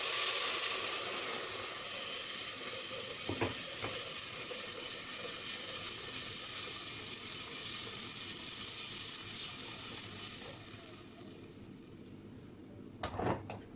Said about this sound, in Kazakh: Керекті суымызды құямыз.